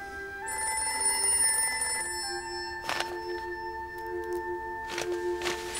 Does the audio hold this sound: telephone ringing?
yes